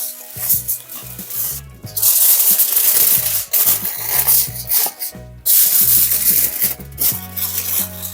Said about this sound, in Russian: Теперь берем фольгу для выпекания и заворачиваем ее еще в нее.